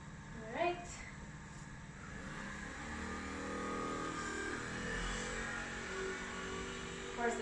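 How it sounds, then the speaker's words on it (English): A motorcycle passes outside, its engine droning and revving at moderate distance for several seconds, heard faintly beneath indoor room noise during a home workout session. "there is a motorcycle outside right now"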